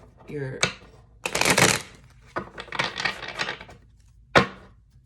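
Brisk riffling and flapping bursts of tarot cards being shuffled, several rounds in quick succession, close by, with a brief voice at the start.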